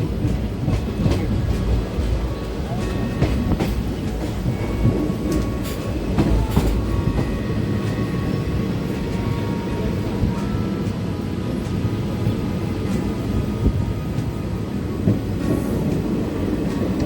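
A passenger train running between Durgapur and Panagarh stations gives a steady rumble with rhythmic wheel clatter and occasional sharper knocks, heard from on board throughout.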